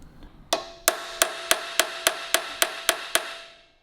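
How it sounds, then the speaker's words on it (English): Ten evenly spaced sharp metal hammer blows on a 1942 Harley-Davidson frame, striking to break out an old butt weld, loud and close with ringing decay, no talk. "Just trying to break the weld out"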